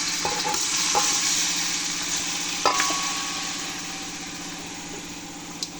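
Marinated chicken sizzles in a pan for biriyani while being stirred, a steady close frying hiss broken by a few sharp metallic scrapes and clinks of the spoon against the vessel.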